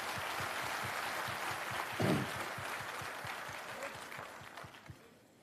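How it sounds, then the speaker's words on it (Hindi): Audience at a Jan Suraaj digital wing meeting in Patna clapping together in a steady rhythmic beat, fairly faint and slowly fading, with a brief louder burst partway through. "अपने लिए जोरदार ताली बजाइए।"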